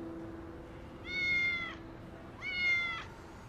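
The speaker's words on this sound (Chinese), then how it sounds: "你看这只小猫是新来的" A kitten in a pet shop meows twice, each call a clear drawn-out cry with a pause between, close and fairly quiet over a faint steady background hum.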